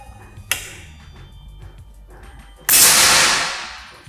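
A sharp, quick crack of an air rifle, then a louder second shot whose hiss lingers and fades over a second or so.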